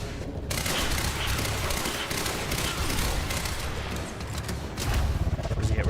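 Dense, continuous gunfire roars in the video game Quantum Break, a loud wall of rapid shots with a brief pause near the start and a thicker burst toward the end, with a voice talking underneath.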